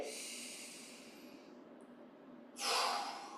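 Slow, soft breathing during a gentle qigong exercise, a long airy exhale fading out, then after a brief pause a sharper, louder breath of air, close and quiet with no talking.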